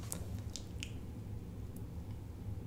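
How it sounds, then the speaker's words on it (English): A wet washcloth wiped over skin during a whispered ASMR roleplay, giving a few soft, close squishy dabs and wipes over a quiet background, with no talking. "And I'll just wipe you down, cool you off a bit."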